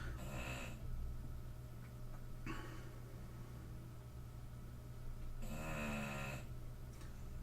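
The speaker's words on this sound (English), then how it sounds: "that's my dog in the background snoring" A dog snores in the background during a Boulder Dash retro game race: a few loud, raspy breaths rise and fall at steady intervals over a constant low electrical hum.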